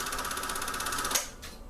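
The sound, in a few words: Sankyo Sound 600 film projector auto-threading film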